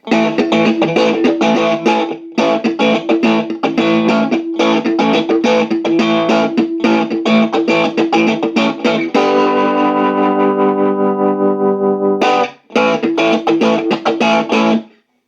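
Electric guitar chords played through a 1965 Watkins Custom 15 amp with a pulsing tremolo wobble, loud and continuous, with a sustained ringing chord midway before strumming resumes.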